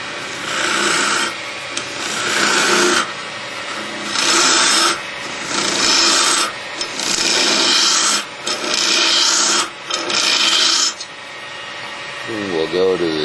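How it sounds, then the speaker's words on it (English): A wooden acorn is hollowed out on a lathe, giving close, loud bursts of cutting and scraping that come in repeated passes of a second or two with brief gaps between them. "Now we'll come around and hollow out the inside of the acorn."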